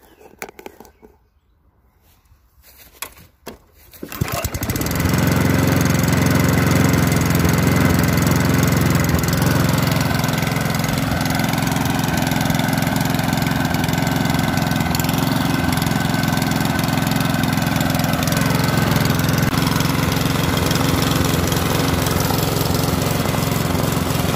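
Small pull-start engine running on vegetable oil coughs to life after a few seconds of quiet handling, then settles into a loud, steady, close-up droning run that holds to the end.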